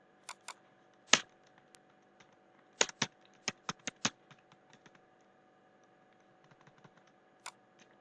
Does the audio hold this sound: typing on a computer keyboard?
yes